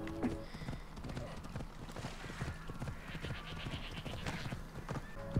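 Horse hooves clip-clopping in steady rhythm while riding in Assassin's Creed Odyssey, with a brief whinny and faint speech under the continuous game ambience.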